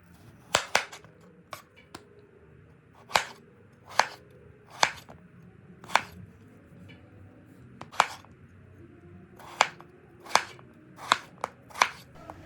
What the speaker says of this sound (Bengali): আলুগুলোকে আমি খোসা ছাড়িয়ে নিয়েছি। এবার এগুলোকেও একইভাবে লম্বা লম্বা করে কেটে নিচ্ছি।